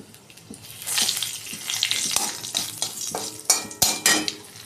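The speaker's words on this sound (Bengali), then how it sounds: "তেলে শুকনো লঙ্কা, জিরে আর তেজপাতা ফোড়ন দিয়ে দিলাম" Dry red chillies, cumin and bay leaves crackle and sizzle in hot oil while a utensil scrapes and stirs, with sharp clinks and bursts of spitting near the end; no voice is heard.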